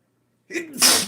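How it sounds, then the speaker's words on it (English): A single sharp sneeze close by: a brief inhaled catch followed by a loud, breathy burst. "I got to sneeze."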